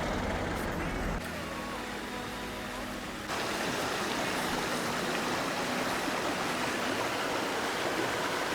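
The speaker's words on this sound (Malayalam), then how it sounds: "റേഡിയേറ്ററിൻ്റെ മുകളിലേക്ക് കുറച്ച് വെള്ളം ഒഴിച്ചു കൊടുക്കുക" Water is poured over the radiator of an overheated car, making a steady, full rushing splash that runs without pause and grows slightly denser partway through.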